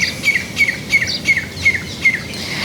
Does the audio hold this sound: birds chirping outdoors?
yes